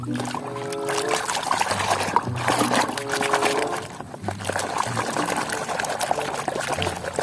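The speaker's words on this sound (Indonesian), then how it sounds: "Kita akan mencuci topeng yang berwarna biru. Wow, ayo kita cuci." A blue plastic toy mask being rinsed under running water, with continuous pouring and trickling, close and moderately loud, interrupted by short tonal squeaks or hums.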